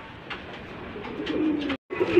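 A pair of Lakka fantail pigeons coo in several soft, close, throaty bursts, with a brief silent gap before the final louder coo.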